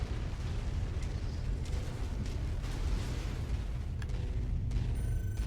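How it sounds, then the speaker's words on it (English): Explosion rumbling in the mech combat game MechWarrior 5: Mercenaries, a sustained low boom with crackling debris and distant blasts throughout, steady and loud with no talking. "Oh, looks big explosion over there."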